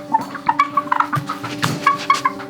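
Roosters at a chicken rescue cluck and crow in a busy flock, with repeated short calls over a couple of seconds, loud and close, and no talking.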